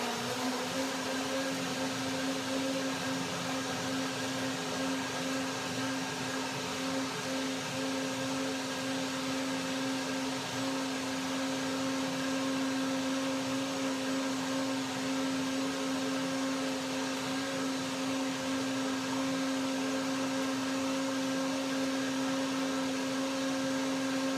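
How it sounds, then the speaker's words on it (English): A blender whirs steadily as it purees peas for Mexican pea soup, a loud, even motor whine with a strong hum that runs unbroken for the whole stretch with no talking. "Peas are pretty easy to blend."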